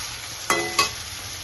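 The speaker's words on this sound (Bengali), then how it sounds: "শুকনো মশলাটাকে একটু নাড়াচাড়া করে নিই প্রথমে" Dry spices stirred in a hot pan for kidney bean curry: two short scraping strokes against a steady low sizzle, close and moderately loud.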